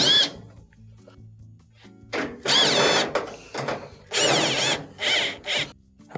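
Power drill backing screws out of the front panel of a GE dryer that will not spin, in several short whirring bursts that rise and fall in pitch, separated by brief quiet pauses.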